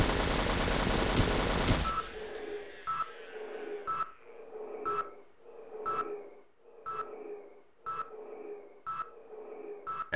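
An automatic turret in Sven Co-op fires after a brief loud roar, letting off short bursts at a steady interval of about one per second, each a sharp crack with a trailing echo.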